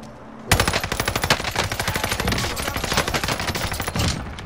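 Sustained bursts of rapid automatic gunfire from a first-person shooter game, loud and close, with dense overlapping shots hammering steadily and a few heavier reports standing out.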